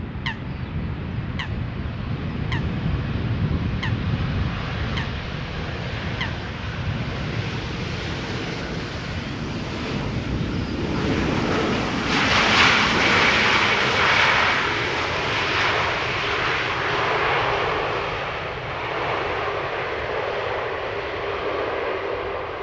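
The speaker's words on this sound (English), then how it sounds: "This is an EasyJet A320neo. Touching down after 1 hour and 17 minutes." An EasyJet Airbus A320neo arriving from Edinburgh touches down, its steady engine roar swelling midway and easing off, fairly loud and continuous, with a few honking bird calls early on.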